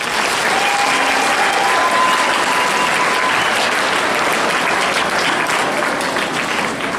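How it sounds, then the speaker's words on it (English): A school audience applauds a student candidate at a Kentucky youth assembly, with dense, loud, continuous clapping from a crowd that holds steady for several seconds. "Two big claps for that candidate."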